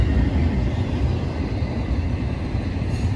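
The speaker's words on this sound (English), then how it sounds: "Ooh, train going by." A train rumbles past nearby, a steady low roar with faint rattling wheels, continuous and fairly loud with no voices.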